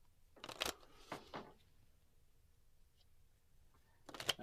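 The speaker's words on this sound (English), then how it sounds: "So I'm guessing I'm supposed to shuffle this." A deck of game cards is riffled and bridged in quick, close bursts near the start, with a second shuffle at the end and near silence between them.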